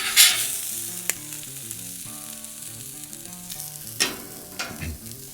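Oklahoma onion burgers with onions sizzling on a grill, a steady, close frying hiss over background music, broken by a couple of sharp metallic clanks.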